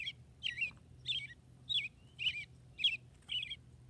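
A robin sings a series of short, clear chirping phrases, about seven evenly spaced notes over a faint low background hum, with no voices.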